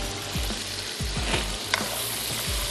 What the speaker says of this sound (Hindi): मैं सिर्फ इसको थोड़ा सा भून लूँगी, लहसुन और अदरक का कच्चापन भी दूर होगा, थोड़ा सा गोश्त फ्राई हो जाएगा